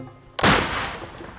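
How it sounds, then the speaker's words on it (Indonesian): A spirit-fuel (alcohol-vapour) firecracker bought online and charged with ten sprays goes off in one sharp, loud bang, then a long rumbling decay rolls on after it. "Sekarang kita nyalakan bareng yang ini dengan mercon spiritus yang dibeli di toko online"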